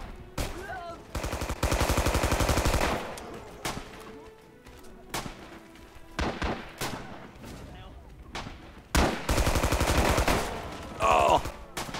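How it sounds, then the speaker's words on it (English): Drum-fed machine gun in the video game Rising Storm firing long bursts of rapid shots, several loud sustained volleys with short gaps and a few single cracks, faint voices under the gunfire. "the machine gun has quite a few rounds for being drum mags"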